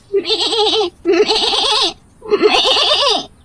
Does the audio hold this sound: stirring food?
no